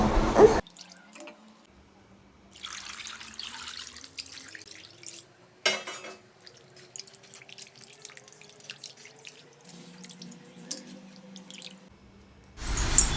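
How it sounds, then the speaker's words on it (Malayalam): Water trickles and splashes in a sink as tuna fish is rinsed by hand, with intermittent running water, drips and soft clinks, quiet and close. "ഞങ്ങൾക്ക് മീൻ നന്നായിട്ട് കഴുകിയെടുക്കാം കേട്ടോ രണ്ട് മൂന്ന് തവണ കഴുകണം"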